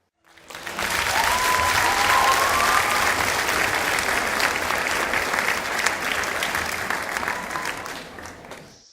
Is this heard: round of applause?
yes